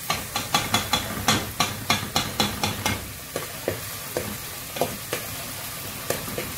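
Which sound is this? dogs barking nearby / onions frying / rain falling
onions frying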